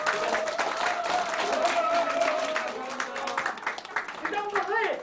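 An audience applauds to welcome a guest at a political party meeting with local merchants in a market, producing steady crowd clapping with voices and a sustained musical tone beneath it, tapering slightly near the end.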